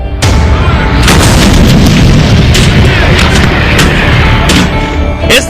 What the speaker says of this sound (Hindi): पोखरण में शुरू हो चुका होवित्जर का परीक्षण।